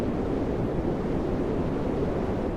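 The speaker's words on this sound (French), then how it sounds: "et qui est du vent puisque le nom de ce son dans le code est News F Wind 2" Steady wind blows in the Nothingness room of the Undertale video game, a continuous low rushing drone with no other sounds and no speech.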